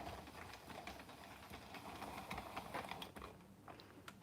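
A circular knitting machine is cranked through one round, giving a steady rattling clatter of needles and gears at close range that tapers off near the end.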